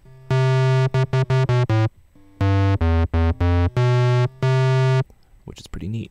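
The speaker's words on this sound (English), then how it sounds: "we have effectively turned the sine wave into a square wave" A Massive software synth tone, a sine wave driven into a square wave, plays as loud buzzing sustained notes in a rhythmic sequence of short and long bursts, followed by a brief voice.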